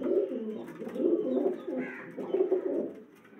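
Pigeons in a low flyer breeding setup cooing close by, three soft throaty rolling coo phrases in a row, with no talk over them.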